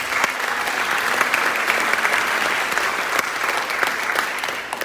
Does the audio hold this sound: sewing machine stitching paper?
no